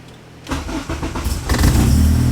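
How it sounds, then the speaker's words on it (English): A car engine cranks and catches after a quiet start, with a burst of starter and combustion noise, then settles into a loud, uneven, lumpy idle close by. "see this little rough idle right now? That's fuel. But look how it starts up."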